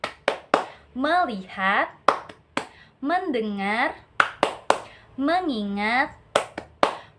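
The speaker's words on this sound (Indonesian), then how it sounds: "Tepuk fokus." Children in a classroom doing a rhythmic group focus clap, sharp claps in short patterned bursts alternating with sung chanted phrases, loud and close.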